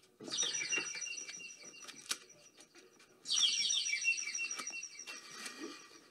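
Birds chirping in a Left 4 Dead 2 game scene, two bursts of bright, busy twittering calls, the second louder, with sharp clicks and thuds scattered throughout.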